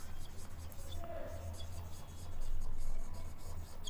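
Pen writing on paper while working a math set problem, a close, steady scratching and tapping of strokes across the whole stretch, somewhat louder near the end, with faint background noise.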